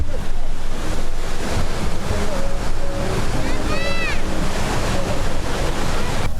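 Waterfall in Antalya, a tourist spot, gives a dense, loud, continuous roar of rushing water. Gusting wind buffets the microphone, and faint tonal bird-like chirps rise briefly in the middle.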